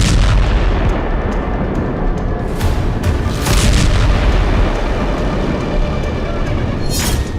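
An aerial bomb striking a Ukrainian weapons depot during the Russia-Ukraine war, heard as loud, continuous rumbling blasts with heavy low-end booms and a few sharper bursts across the whole stretch, with no voices.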